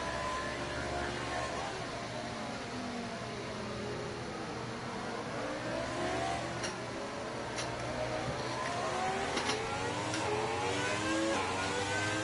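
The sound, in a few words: racing cars going around Monaco circuit in video game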